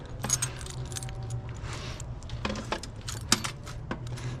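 Loose metal keys jangle and clink repeatedly while non-ferrous scrap such as brass and aluminum is sorted by hand. The bright metallic rattles come close and clear in several bursts over a steady low hum.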